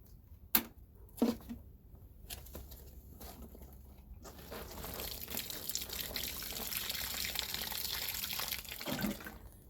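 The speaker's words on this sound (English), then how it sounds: "So I'm going to go ahead and re-water this." Water is poured over a freshly repotted houseplant, starting with a few short splashes and then running as a steady, close pour that soaks the soil for several seconds.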